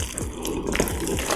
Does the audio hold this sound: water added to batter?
yes